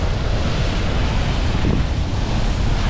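Big ocean waves crash and roar continuously along a stormy shore, loud and close, with heavy wind buffeting the microphone throughout.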